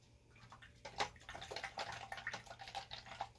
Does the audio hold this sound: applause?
no